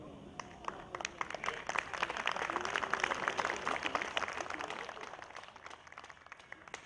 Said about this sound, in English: we absolutely love it when an audience applauds for the song before we play it